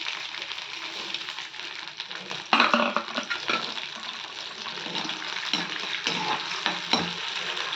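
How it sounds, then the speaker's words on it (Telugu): Soaked fenugreek seeds frying in oil, a dense steady sizzle with a louder burst of spattering partway through and intermittent stirring sounds, close by. "ఆ మెంతుల్ని వీటిలో ఈ నూనెలోని వేయించాలి."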